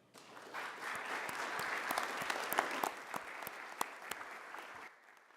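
Applause at a city council meeting, scattered individual claps standing out within a modest steady patter that swells then fades near the end, quiet and somewhat distant.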